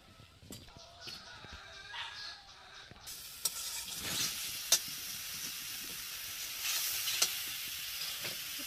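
Cabbage frying in a pan with turmeric and cumin powder, a steady sizzle and hiss that grows louder partway through, with occasional sharp clicks and scrapes of stirring.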